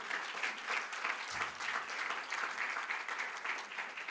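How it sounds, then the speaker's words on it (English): Sustained applause from a conference audience for the speakers, dense even clapping from a large room that holds steady for about four seconds, with no one speaking over it. "please put your hands together with a big applause for all of you"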